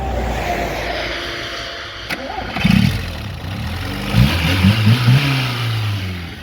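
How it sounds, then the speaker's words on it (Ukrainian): A car engine turns over and catches, then idles with a few short revs rising and falling, close by, with some faint background noise. "Попрошу зараз асистента запустити мотор."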